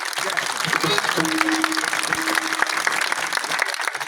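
Audience clapping to welcome guests at a gathering, a steady wash of applause running the full length under a voice speaking over a loudspeaker.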